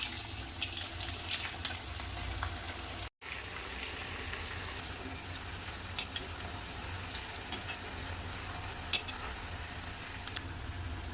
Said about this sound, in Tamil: போதுமான அளவுக்கு எண்ணெய் வச்சு மொறு பொரிச்சிக்கலாம்